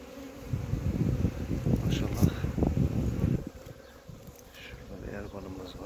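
Honeybees flying busily around the hive entrance in early spring, bringing in pollen, a dense close buzzing that swells and then thins out toward the end.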